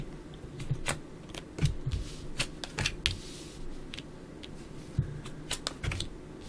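Tarot cards being shuffled, flicked and laid out on a surface, heard close as irregular soft taps, snaps and slides, with no voices.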